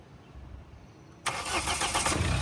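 A Mahindra XUV's engine cranks and catches abruptly after a quiet stretch, then settles into a steady, close idle.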